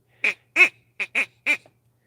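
A duck call is blown in five sharp, loud quacking blasts with short gaps between them, clear and alone against silence.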